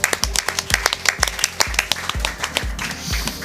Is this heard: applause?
yes